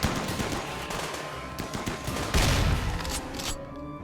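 Mini turrets firing rapidly in Rimworld, a dense, loud stream of overlapping shots that swells midway and cuts off sharply near the end, with no talking.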